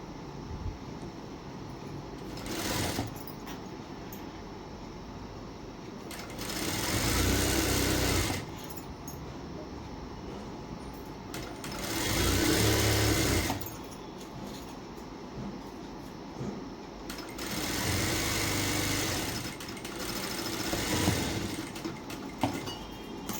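A sewing machine runs in several bursts of stitching on a plain blouse, each run a few seconds long and loud, separated by quieter pauses full of room noise.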